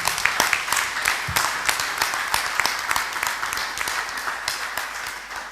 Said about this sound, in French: je vous demande maintenant d'applaudir chaleureusement.